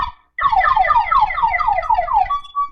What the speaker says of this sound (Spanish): se le activó la alarma al carro a alguien